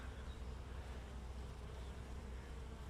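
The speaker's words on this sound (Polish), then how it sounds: "w tym ulu pszczół nie było, a są" Bees buzz inside a beehive, a faint, steady low hum with no pauses and no voices.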